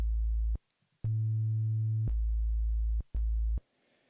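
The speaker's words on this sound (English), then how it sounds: "Just a very simple sine wave." Plain sine tone from an OP-1 Field synthesizer, played as four sustained notes of about half a second to a second each with short silent gaps, the second note pitched higher than the rest; clean and steady, with no talking.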